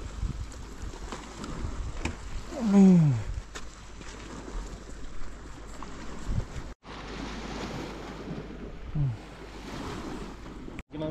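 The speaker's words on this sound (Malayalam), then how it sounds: "ഇവിടെ ഇങ്ങനെ കാറ്റടിച്ച് ഇങ്ങനെ കടൽ തീരം പോലെ" Cold wind sweeps across the Pangong Lake shore in a continuous rushing roar with gusty swells and a brief dropout, like surf on a seashore, with no other sound standing out.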